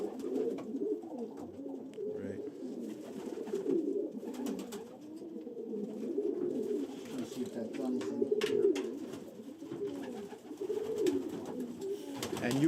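Pigeons coo continuously in a loft, soft overlapping throaty rolling calls close by, with occasional faint rustles and human voices in the background.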